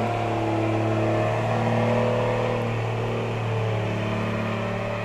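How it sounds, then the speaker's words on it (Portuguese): A truck passes close by outside, its steady low engine drone loud and continuous throughout with a slight swell midway, heard alone without talk. "Espera esse caminhão passar, tá escutando?"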